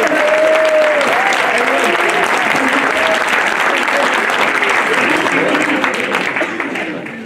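A crowd applauds warmly and continuously for Guitou at Isola's 2025 New Year greetings ceremony, a thick wash of clapping with faint voices woven in, holding strong before fading out in the final second.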